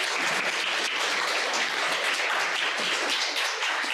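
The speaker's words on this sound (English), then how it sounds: "Another round of applause, please." An audience gives a sustained round of applause for speakers at a talk on constitutional arguments for transgender rights, dense steady clapping filling the whole stretch without a break.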